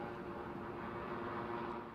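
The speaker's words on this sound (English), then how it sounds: "I'm going to wait till that helicopter goes over us" A helicopter passing overhead outdoors, heard as a steady low droning rumble with a faint whine that holds fairly even throughout, moderately loud and with no talking.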